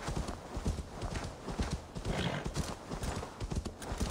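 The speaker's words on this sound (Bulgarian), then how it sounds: "Ей, коня се измори, чакай, конче." Horse hooves clip-clop in a steady, quick rhythm in the video game Assassin's Creed Valhalla, close and continuous over a soft ambient game background.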